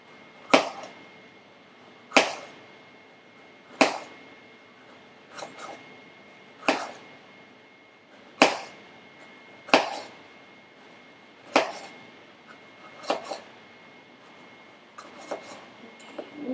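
A knife slices finely through salad ingredients on a cutting board, about a dozen sharp separate chops at uneven intervals, close and distinct with quiet room tone between.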